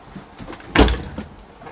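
An interior door inside a motorhome shuts with a single solid thud, near and fairly loud against a quiet room.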